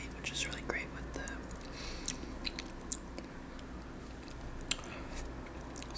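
Whispered ASMR eating of a bacon donut, with soft close-up bites and moist chewing under a steady low background hum, plus a couple of sharper crunchy clicks.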